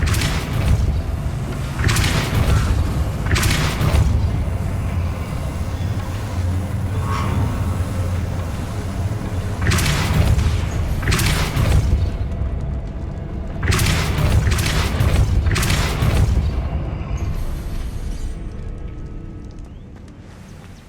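Depulso force spells in Hogwarts Legacy strike an obstacle in several paired, punchy blasts spread over about twenty seconds, each a loud close thump with a rushing burst over a low rumbling game background.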